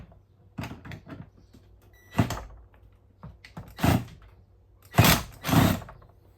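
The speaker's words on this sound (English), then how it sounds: "now what I'm going to do is put a screw in the middle of the bracket here" A screw driven into the middle of an air hose reel bracket: several short bursts of driving and grinding, close and fairly loud, separated by quiet gaps, with stronger spurts toward the end.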